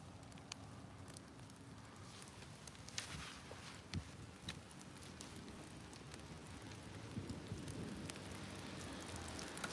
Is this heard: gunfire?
no